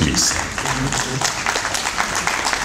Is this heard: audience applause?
yes